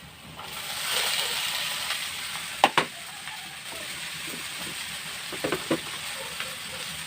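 Okra fries in a pan with a soft, continuous sizzle, punctuated by a few crisp clicks and taps of a spoon stirring it.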